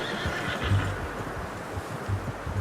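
A horse whinnies in Red Dead Redemption 2, with a few low snorts and soft hoof movement around it. The sound is close and moderately loud, and nobody speaks.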